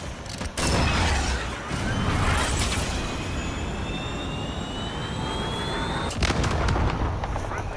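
Call of Duty: Modern Warfare combat in London's Piccadilly delivers heavy booming weapon fire over a dense roar of jet and engine noise, with sharp blasts near the start and end.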